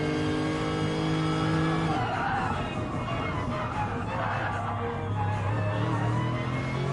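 A GT3 race car at Bathurst in a racing game is driven hard through the corners, its engine revving and dropping. Loud whining tones climb and fall against a steady roar, with some tire noise.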